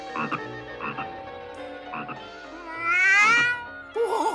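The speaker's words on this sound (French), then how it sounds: "Oh, quelle chance, c'est un crapaud." A cartoon toad gives several short, bubbly croaks in a loose rhythm, then one longer warbling call and a final burst. The croaks are close and clear, with no talking over them.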